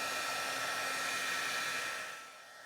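A handheld heat tool for heat embossing blows with a steady, loud whooshing roar as it warms up, running alone for a couple of seconds before the sound drops off at the end.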